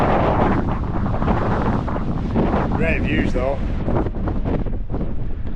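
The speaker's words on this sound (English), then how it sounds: "that's windy that." Strong gusty wind on an exposed mountain edge in the Lake District buffets the microphone in a constant roar, with a person speaking briefly partway through.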